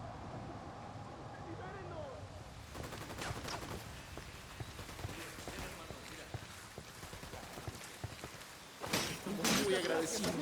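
Gunfire erupts against cartel forces in the Ghost Recon Wildlands video game, with a steady stream of dense shots from about three seconds in and a louder, heavier burst near the end, mixed with game ambience and voices.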